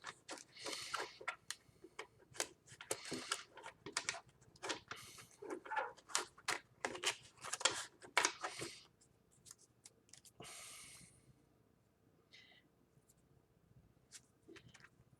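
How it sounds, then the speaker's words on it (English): Tarot cards being shuffled by hand, close and fairly quiet: bursts of crisp riffling and flicking snaps in quick runs, then sparser soft handling and near silence toward the end. "So I'm gonna shuffle these cards up"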